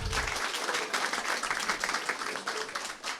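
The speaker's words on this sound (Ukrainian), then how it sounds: "Наталі, дайте трошки оплесків." Audience applause at a Ukrainian stand-up comedy improvisation show, a short burst of brisk clapping from the hall, moderately loud, with no talking over it.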